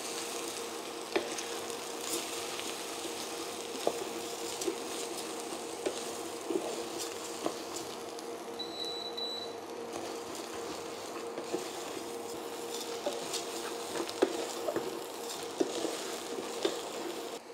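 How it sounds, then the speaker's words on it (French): Risotto rice toasting with onion in a pan for a mushroom risotto, giving a steady, fairly loud sizzle with scattered clicks and scrapes as it is stirred, with no talking. "on a fait revenir notre riz pendant 2-3 minutes sur le feu"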